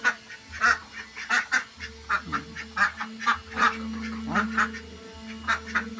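Itik ducks in a cage quack and honk repeatedly in short bursts, fairly close, with a low steady hum underneath.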